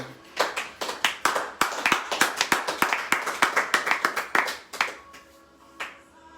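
A church congregation claps in acclamation of the Lord, a loud, lively burst of many hands striking in quick, uneven rhythm, then tapering to a few scattered claps.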